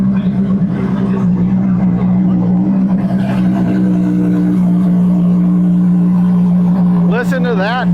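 A Ferrari engine rumbles loudly and steadily with a deep throaty drone at an auction, with voices talking over it and a brief rising whine near the end.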